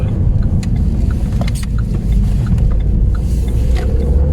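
Renault Megane 3 RS Trophy 265 taking a bend at light throttle, its engine a steady loud low drone with road and cabin rumble throughout, heard from inside the car without talk.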